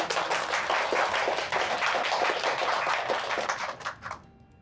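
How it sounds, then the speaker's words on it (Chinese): A group in an office meeting applauds a newly introduced colleague, with dense, lively clapping from many hands that tapers off and stops near the end. "掌声欢迎。"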